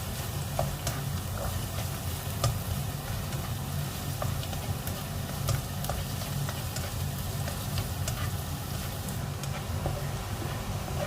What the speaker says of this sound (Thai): ตั้งไฟต่อนะคะ แล้วก็เดี๋ยวเรามาเคี่ยวกระเทียมนะค